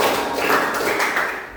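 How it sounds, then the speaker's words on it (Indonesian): A class claps together on command in a few quick rounds, a dull patter of many hands close by that fades out toward the end. "tepuk 3,"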